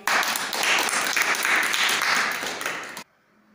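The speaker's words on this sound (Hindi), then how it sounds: "बजाए ताली।" Schoolchildren in a classroom maths activity burst into loud, dense group applause lasting about three seconds, then stop abruptly into near silence.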